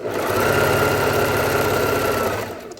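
A domestic sewing machine stitches knit fabric along the edge in one steady, close, continuous mechanical whir that fades out at the end, with no talking.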